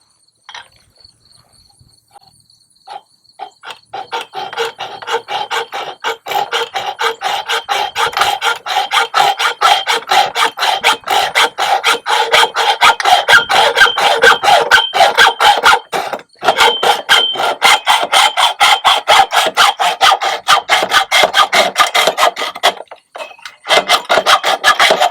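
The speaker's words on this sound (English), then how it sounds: "I'm going to use a hacksaw to cut our piece to finish off this ridge pole" A hacksaw cuts through a ridge pole piece in quick, steady back-and-forth rasping strokes, close and loud, running continuously after a brief start with a short pause near the end.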